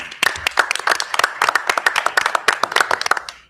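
Applause from a school committee meeting audience, a room of people clapping at close range with dense, irregular hand claps for a few seconds.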